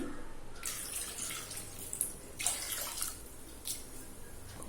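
Water splashes and trickles into a cooking pan for tomato rice in short bursts, with drips between pours, fairly close and moderately loud.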